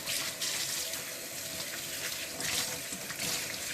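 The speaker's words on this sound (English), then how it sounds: "I'm gonna rinse it a little bit just to get more of the impurities out" Beef bones for pho broth rinsed under a running kitchen tap, giving a steady, close rush of water splashing over bones in a sink, continuous throughout with no talking.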